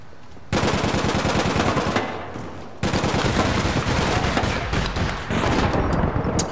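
Automatic weapon fire in the online shooter APB Reloaded, loud rapid bursts of gunshots filling most of the stretch with a brief pause midway, no voices.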